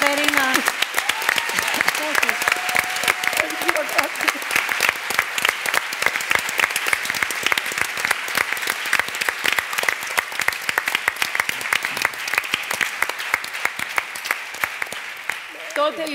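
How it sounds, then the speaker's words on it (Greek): Audience applause at a Greek panel discussion, sustained and dense, with sharp individual claps inside a continuous roar that lasts over fifteen seconds and eases slightly at the end, with a brief voice at the start. "ήθελα ένα χειροκρότημα, μία αποδοχή, είσαι καλή, είσαι ωραία. Να σου δώσουμε τώρα, Κατερίνα."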